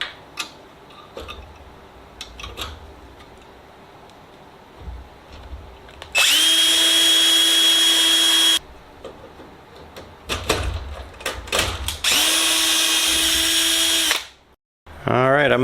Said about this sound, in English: I'm going to go ahead and drill these last 4 holes.